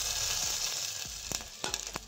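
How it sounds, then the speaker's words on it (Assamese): Whole cumin seeds sizzle in two spoons of hot ghee, a steady bright frying hiss with a few sharp crackles and pops toward the end, close and alone. "2 চামুচ ঘিউখিনি গৰম হোৱাত মই দিছোঁ গোটা জিৰা"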